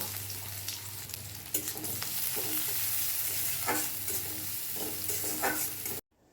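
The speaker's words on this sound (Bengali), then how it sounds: "তেলটা গরম হলে এর মধ্যে দিয়ে দিব কুচি করে রাখা পেঁয়াজগুলো" Steady loud sizzling of chopped onions frying in hot oil for a Bengali rohu fish curry, with occasional stirring scrapes, then sudden silence at the end.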